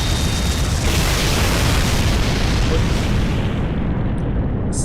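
A video game explosion in Fate/Grand Order: a dense, loud, sustained roaring blast that fills the whole clip without letting up, with no talking over it.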